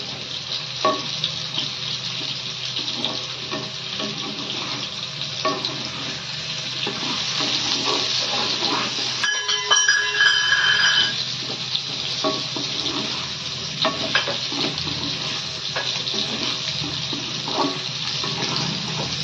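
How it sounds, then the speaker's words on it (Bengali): Prawns frying in a pan to a deep red, giving a steady, dense hiss that runs unbroken for the whole stretch, fairly loud and close, with no talking. "এটা একদম লাল করে ভাজা হবে।"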